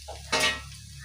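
Fennel seeds and coriander powder land in a hot pan, giving one brief hissing sizzle burst that quickly settles over a low kitchen hum.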